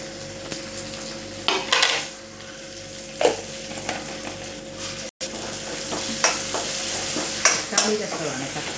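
Tomato fries in a pan for tomato rasam, with a continuous sizzle, several sharp spatula scrapes and knocks against the pan, and faint background music.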